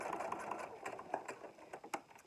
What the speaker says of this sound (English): with the elastic extending beyond the casing, I'm going to sew it in place